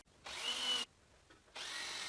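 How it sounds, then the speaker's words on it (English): Two bursts of a power drill boring guide holes into pallet wood, each about half a second long with a short quiet gap between, close and fairly loud. "And I drill the guide holes."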